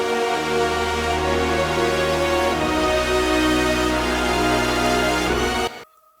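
An orchestral section washed in reverb and effects holds loud sustained chords that change midway, then cuts off abruptly to near silence at the end.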